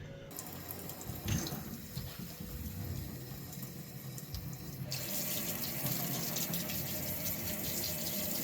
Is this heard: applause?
no